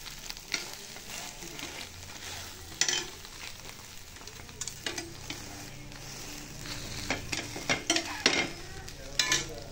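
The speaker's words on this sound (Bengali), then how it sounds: "পরোটা ভিন্ডি আলু বানিয়ে রেখেছিলাম, সেটা এখন একটু হালকা গরম করে নিচ্ছে" Paratha with okra and potato is warmed in a pan, with a soft steady sizzle and frequent scraping and stirring clicks of a utensil against the pan, close and fairly quiet, with no talking.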